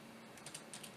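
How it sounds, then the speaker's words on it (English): Quiet typing on a computer keyboard in a nano text editor, a few soft key clicks in a short burst, faint and close with no talk. "I could type in this file"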